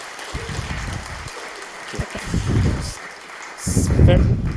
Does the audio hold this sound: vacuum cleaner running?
no